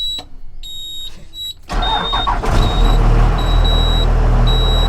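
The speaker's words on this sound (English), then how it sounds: "So now we're gonna turn on the bus to raise the air brakes" A bus engine starts up and settles into a loud, steady low idle with the air brakes building pressure, after a quieter stretch with faint high electronic tones.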